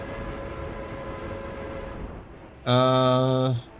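A train in the city-building game Workers & Resources: a low steady rail rumble runs for a couple of seconds, then a loud, harmonic horn blast sounds for about one second and cuts off.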